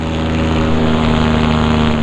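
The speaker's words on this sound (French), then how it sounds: "Le moteur que j'ai dans le dos me permet de monter. Plus je veux mettre de gaz," A back-mounted paramotor engine drives a powered paraglider climbing over Fréjus, with a loud, constant propeller drone and a steady tonal hum close by.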